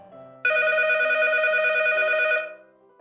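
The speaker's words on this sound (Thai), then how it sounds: "เสียงโทรศัพท์ทำเอาเธอสะดุ้ง" A telephone rings with one loud, sustained electronic trill that cuts off after about two seconds, over quiet background music.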